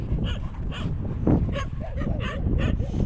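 Several short, high dog whimpers and yips come in quick bursts over steady background noise at the sea, with one sharper cry standing out partway through.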